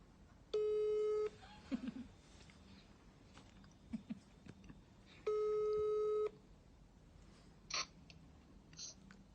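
Telephone ring tones sound twice during a prank phone call, each a steady electronic burst about a second long, separated by a quiet gap with faint background noises.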